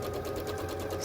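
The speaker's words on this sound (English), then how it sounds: "You're going to sew on the seam." A sewing machine stitching along a quilt block seam in a bowtie block, a short steady mechanical whir running close and unbroken with no voices.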